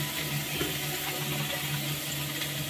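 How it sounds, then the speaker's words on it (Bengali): Water is poured into a pan of cooking food, a steady close splashing and gushing that runs without a break for a few seconds. "এবার জল দিয়ে দেবে একটু নেড়ে নিয়ে।"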